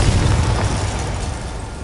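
In Hogwarts Legacy, a Confringo spell detonates as a loud, deep fiery explosion that booms at the start and rumbles away over the next second or so.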